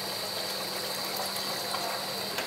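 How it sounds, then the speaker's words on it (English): Water pours steadily into a cooking pot for rice, a constant loud gushing hiss with no pauses throughout the short stretch. "You take the thing and put maybe 3/4 of water for cooking the rice."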